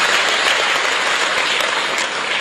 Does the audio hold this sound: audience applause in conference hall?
yes